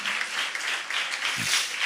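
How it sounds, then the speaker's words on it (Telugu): A church congregation clapping loudly together during worship, a short dense burst of applause filling the room. "గట్టిగా చప్పట్లు కొట్టి స్తోత్రం చెప్పాను"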